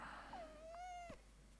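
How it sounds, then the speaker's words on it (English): A pet cat gives a single drawn-out, sliding meow, faint and close in a quiet room, with no talking over it. "My naughty cat."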